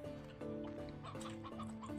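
Hens clucking in the Slime Rancher 2 video game, a dense run of overlapping clucks from several birds close by, loud and continuous with no talk.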